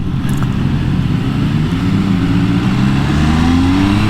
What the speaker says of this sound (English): this 800cc i3 engine, it works really well